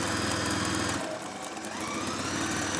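Sewing machine stitching a seam on a cherry stone neck warmer, a fast steady mechanical whirr running close and continuous for a few seconds.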